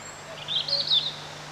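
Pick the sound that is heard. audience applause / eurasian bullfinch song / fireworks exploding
eurasian bullfinch song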